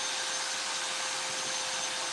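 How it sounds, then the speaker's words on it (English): A power drill runs steadily in an office, a continuous loud whirring drone with a faint tonal whine that holds unchanged from start to finish, with no talking. "there is somebody using an office drill"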